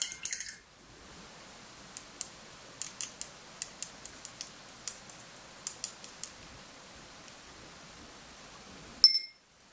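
Black paint with drops of additive stirred in a small miniature-paint pot, a series of light, sharp metallic clinks and taps in an irregular rhythm, close and fairly quiet against a near-silent background.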